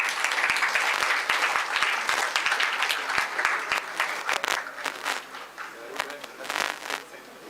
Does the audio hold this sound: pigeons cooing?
no